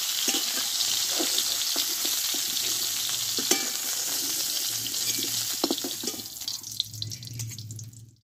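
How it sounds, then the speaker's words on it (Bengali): Cauliflower pieces frying in hot oil, a dense continuous sizzle with intermittent spoon clinks and scrapes, fading out abruptly at the end. "কপিগুলো আমি সময় করে ভালোভাবে টাইম নিয়ে আমি কষে নিলাম"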